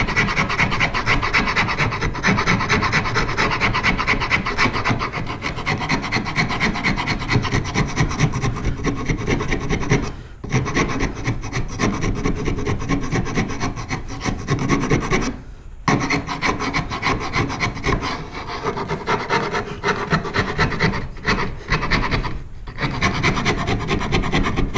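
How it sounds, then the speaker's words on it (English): A rasp files steadily back and forth across the wooden side of a handmade long box turkey call, a continuous close scraping with a few brief pauses, no voices. "And I'll rasp this side down."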